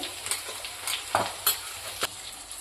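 Oil sizzles softly in a pan with spices sautéing for a Kathiyawadi potato curry while a spoon stirs and scrapes a few times, quiet and close.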